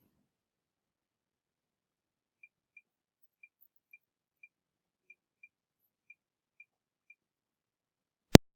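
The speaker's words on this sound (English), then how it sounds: "The claves sound like this when we play them." Claves clack out a 2-3 clave rhythm pattern, about ten short, crisp wooden clicks in a syncopated repeating figure, faint against silence, ending with one sharper, louder click.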